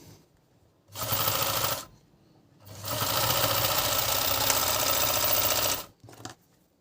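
Dragonfly FN2-8D overlock sewing machine stitching a thick three-layer seam, heard as two loud close bursts of rapid mechanical whirring, a short run and then a longer one, separated by quiet gaps.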